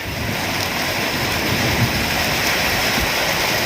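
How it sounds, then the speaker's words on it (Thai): A fierce summer storm lashes Kok Kok, Thailand, with strong gusting wind and rain around large rubber trees, a loud, steady rushing roar with slight buffeting, no talk. "พายุแรงมากครับ"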